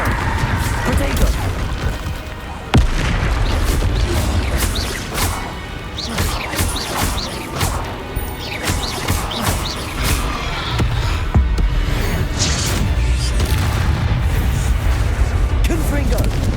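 Confringo fire blasts and Glacius ice spells cast in rapid succession during a Hogwarts Legacy duel, a dense run of crashes, whooshes and impacts over game music, with a man calling out spell names throughout.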